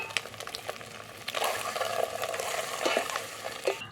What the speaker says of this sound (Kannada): ಸ್ವಲ್ಪ ಫ್ರೈ ಆಗಲಿ ಫ್ರೈ ಆದಮೇಲೆ ಎತ್ಕೊಬ್ರು